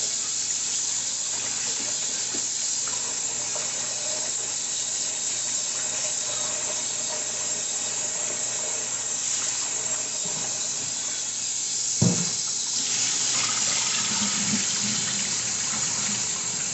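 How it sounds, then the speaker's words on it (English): Tap water runs steadily into a kitchen sink while turkey wings are rinsed, a constant hissing splash with one brief clunk partway through. "wash it a couple of times."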